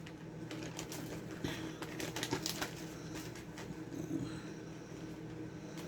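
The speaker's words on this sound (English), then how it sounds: "I'll just write the date." A pen scratches out a date on the label of a Ziploc freezer bag of carrots in quick, faint, scratchy strokes, with a quiet room hum behind it.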